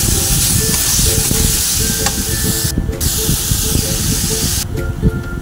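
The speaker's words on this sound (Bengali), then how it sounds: "এবার আমি সব দিয়ে নাড়াচাড়া করে নেবো, আলু দিয়ে, কাবলি চানা দিয়ে।" Potatoes and chickpeas with spices stirred in a hot pan, a loud, close, continuous sizzle and hiss with a ladle scraping and clattering rhythmically through it.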